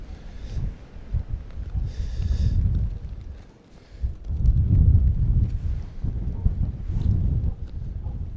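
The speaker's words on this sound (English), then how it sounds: "the wind's not going to cooperate" Wind buffeting a microphone outdoors during a scraping job, a steady low rumble that swells and dips in gusts throughout.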